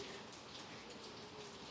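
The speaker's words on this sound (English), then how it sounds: "Don't know if you can hear outside or not, but it's raining." Steady rain falls outdoors at night, a continuous soft hiss of drops at an even, moderate level with no voices.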